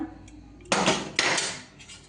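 A metal lid comes off a cooking pot used for baking a cake: a faint clink, then two bright scraping clatters of metal on metal, close by, fading into quiet.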